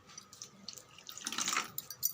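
Water runs from a tap or is poured into a bowl of semolina and curd batter for rava adai dosai, a steady splashing stream that swells toward the middle and continues to the end, with no talk.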